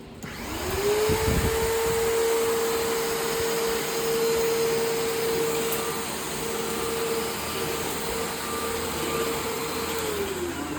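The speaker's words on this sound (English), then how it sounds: "So this is my favorite sound for a vacuum." A vacuum cleaner motor spins up and runs steadily with a strong whining hum, close and loud, holding a constant pitch throughout.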